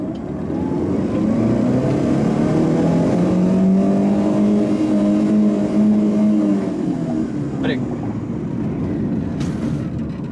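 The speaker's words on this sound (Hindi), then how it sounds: "गाड़ी को एक्सेलरेट करते हैं।" A car engine revs up and accelerates, loud and steady with rising harmonic tones for most of the stretch, easing off toward the end, with no talking.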